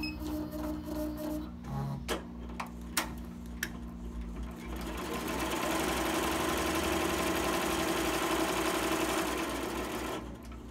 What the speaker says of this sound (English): I have my machine on automatic manual because I want it to stop after it completes my dye line